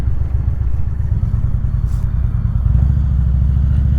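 An Indian Super Chief Limited motorcycle with air-adjusted rear shocks rumbles along at steady cruising speed, its deep engine throb loud and continuous, rising slightly toward the end.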